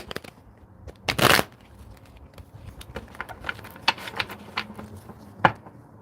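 A crisp burst of tarot cards being riffled, followed by softer taps and shuffles of the deck, close up and otherwise quiet.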